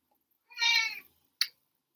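A cat gives one clear, close meow lasting about half a second in an otherwise quiet room, followed by a brief sharp click.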